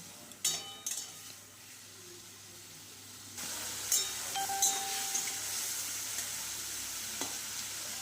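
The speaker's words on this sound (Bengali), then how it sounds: "এগুলোকে একটু ভালো করে একটু ভাজা ভাজা হতে দেবো" Gentle frying sizzle of steamed taro in a pan with occasional sharp clinks and scrapes of a utensil stirring, steady background hiss throughout.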